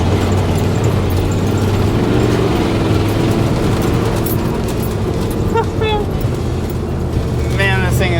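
Bullnose truck drifting off-road on a tight trail, a steady loud engine roar with low rumble throughout, tire and gravel noise mixed in, and a few faint squeaky sounds near the end.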